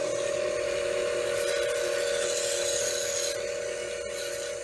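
A belt sharpener grinds the bevel of a serrated knife in a light pass: a steady motor whine with close abrasive rasping that stays fairly even, then eases slightly near the end.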